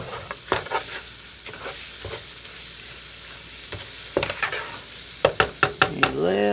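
Flour is mixed into a hot, sizzling pan, with a steady frying hiss and repeated quick scrapes and taps from the utensil that grow into a brisk run near the end.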